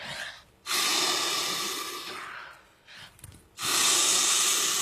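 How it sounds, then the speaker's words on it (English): Rescue breaths blown during a CPR demonstration on a drowning casualty: two long, loud breathy rushes of air separated by a quieter pause with a few soft catches, close to the listener and with no talk. "So 5 rescue breaths."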